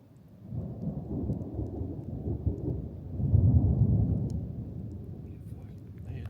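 Low, rolling thunder in Charlevoix, Quebec rumbles continuously under steady rain, swelling louder midway before settling back, with faint voices murmuring beneath.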